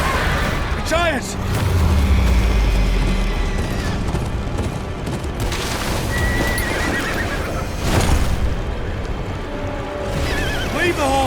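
Horses whinny sharply several times amid thudding hooves and a loud, chaotic Game of Thrones battle din of booms and shouting voices.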